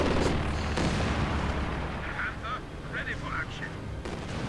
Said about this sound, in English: They're again bombing this position with M75s.